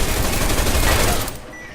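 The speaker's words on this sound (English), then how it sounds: "Here we've used an EMP frag grenade to disable the turret and armor-piercing bullets to destroy it" A short, dense burst of rapid gunfire against a turret in the video game Deus Ex: Mankind Divided, loud for about a second before cutting off abruptly.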